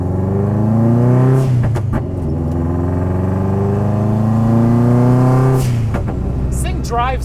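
An all-wheel-drive Mazda Miata with its front end cut off drives on a street, its engine humming steadily and loudly up close, with a brief shift or lift partway through.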